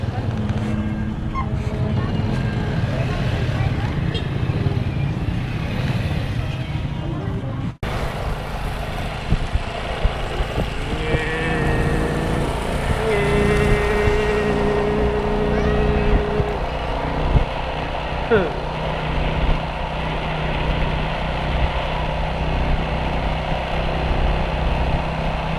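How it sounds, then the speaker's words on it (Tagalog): Two motorcycles ride along a provincial road, their engines a continuous mid-level drone with a brief cut early on, then lighter engine noise and faint higher whines as they travel. "dalawang motor kami"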